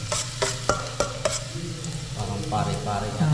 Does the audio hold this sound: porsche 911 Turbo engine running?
no